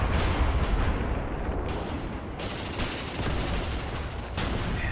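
MG42 machine guns chatter continuously in a WWII Eastern Front battle game with a sound mod, dense and loud bursts layered with distant booming gunfire and no pauses or voices.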